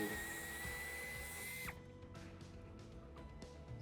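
A power driver with a Torx T40 bit backs out a screw inside the cargo area of a 2018-onward BMW X4 G02, whirring steadily for about a second and a half before stopping, followed by faint clicks and handling noises.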